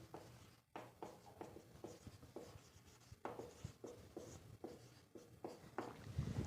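Someone writes a maths formula by hand, and pen or chalk strokes scratch in short rhythmic bursts separated by brief pauses. The sound is quiet and close, with no speech.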